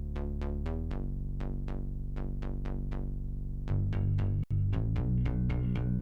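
Serum software synthesizer plays a bass MIDI line converted from a recorded part: rhythmic run of sustained, harmonically rich synth notes, steady and loud throughout, with a brief dropout near the end and no talking.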